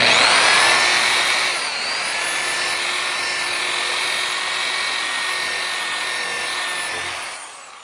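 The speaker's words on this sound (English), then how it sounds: "I'm gonna show you what this buffing wheel that's very messed up does to this damaged part right here" Messed-up buffing wheel polishing a damaged Jeep bumper from a totaled Jeep, a loud steady high-pitched whirring grind that holds for several seconds with slight pitch shifts, then eases off at the end.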